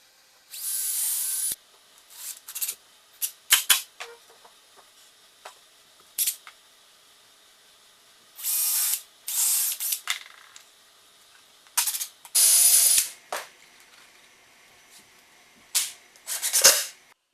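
Screws being driven into glued wooden stair-box parts for a loft bed's storage stairs, heard as several separate loud bursts of a power driver with short clicks and rattles between them, near and without talk.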